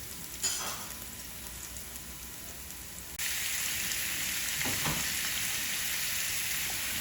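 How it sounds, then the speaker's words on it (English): Beetroot, garlic, jalapeño and ginger sauté in a skillet. A faint hiss jumps into a loud, steady sizzle about halfway through, then carries on evenly with a few soft stirring knocks. "The beetroot, and we're gonna saute this, the garlic, the jalapeno, and ginger. I'm gonna throw it on the skillet right now."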